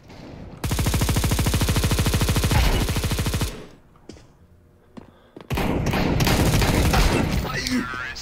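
Automatic gunfire in Counter-Strike 2 arrives as loud, sustained rapid bursts: a long stream of shots, a pause with scattered thumps, then another heavy burst, close and dominant.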